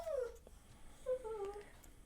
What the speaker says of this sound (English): Cat and dog fight.